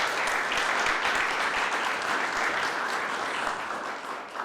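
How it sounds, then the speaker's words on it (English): A round of applause at the Millcreek Township new identity unveiling press conference: dense, continuous clapping from an audience, loud and steady, tapering slightly near the end. "so round of applause for Sam"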